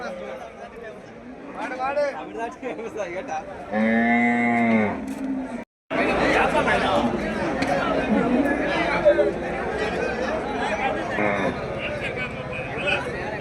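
Cattle moo loudly and repeatedly amid a busy crowd at a cattle market in Melapalayam, with people chatting close by throughout.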